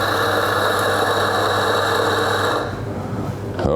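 A Rocket Faustino coffee grinder with 50 mm burrs grinds espresso beans in a loud, steady mechanical whir close by. The motor pitch drops near the end as it stops.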